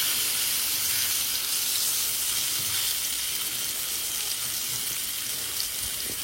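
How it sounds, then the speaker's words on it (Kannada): Fish frying on a hot oiled tawa over a low flame, Mangalorean style: a steady, loud, unbroken hiss of sizzling oil, close by and alone, with no talking. "ഞങ്ങൾ ഓയിൽ ഹീറ്റായോ പിന്നെ ഞങ്ങൾ ഫിഷ് തവರ ಮೇಲೆ വെക്കുന്നു"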